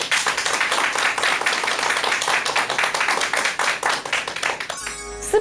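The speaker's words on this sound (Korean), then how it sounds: "여러분 큰 박수 부탁드립니다." An audience at a lecture hall event gives sustained, dense clapping for several seconds that fades out before a short musical sting at the end.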